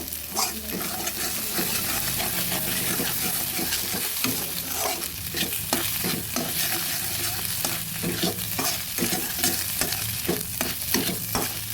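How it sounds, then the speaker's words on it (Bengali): Steady sizzling of eggs frying in a pan with salt added, with repeated scraping and stirring strokes of a utensil throughout, close and fairly loud. "কিছুটা নুন ভালোভাবে নেড়ে দিচ্ছি"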